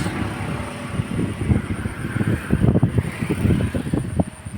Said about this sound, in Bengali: প্রচণ্ড ঝড় হচ্ছে আমাদের এখানে। বৃষ্টি থেমে গেছে, এখন শুধু বাতাস হচ্ছে।